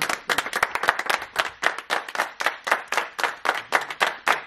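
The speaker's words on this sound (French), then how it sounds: "On applaudit" A small group claps in a rhythmic, fairly close burst of applause, with individual hand claps clearly distinct and rising and falling in quick pulses.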